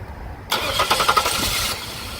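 A Chevrolet Impala with an intermittent no-start fault cranks briefly and then fires up into a steady idle, loud and close.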